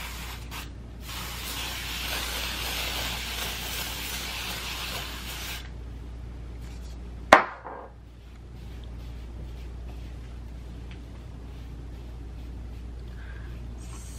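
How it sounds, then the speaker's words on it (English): un.done texture spray misted onto a pixie cut during styling: a loud, steady aerosol hiss for about five seconds, then quieter handling noise and one sharp tap. "I'm going to spray my hair with this un.done texture spray."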